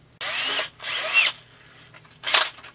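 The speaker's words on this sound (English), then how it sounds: "So I need to enlarge the holes here just a little bit just to get the screws in." Power drill enlarging screw holes in the plastic cover of a Huztl chainsaw, a Stihl MS660 clone, in three short whirring bursts, the first two long and close together and the last one brief.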